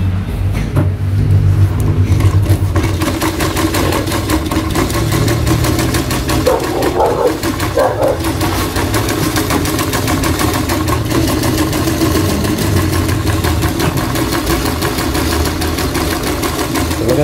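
A treadle sewing machine runs with a steady, rapid mechanical clatter on and on, rattling rhythmically up close without pause.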